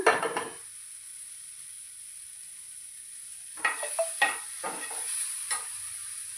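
Oil tempering sizzles in a hot pan for a vegetable dish, starting with a brief burst, fading to quiet, then crackling again in several sharp pops and spits.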